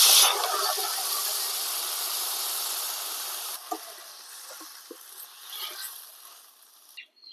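Hot oil hisses and sizzles loudly as water goes into a pan of browned jackfruit curry, then the sizzle settles into a quieter bubbling with a few soft clinks, no talk.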